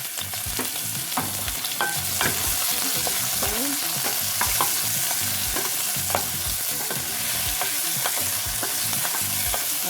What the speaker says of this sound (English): I'm going to add all of my seasonings to the pot